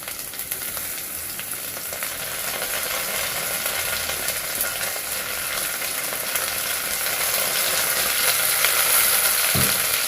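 Onions and garlic frying in a pan make a steady, dense sizzle that stays loud and continuous throughout, with faint scraping of stirring and no voices.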